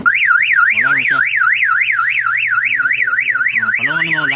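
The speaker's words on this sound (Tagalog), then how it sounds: "Pero katong alarm, kung masagdahan mo to, mapalaw na to 10 seconds." A van's aftermarket car alarm blares loud and close, a continuous warbling siren tone sweeping rapidly up and down, with shorter chirping bursts layered underneath.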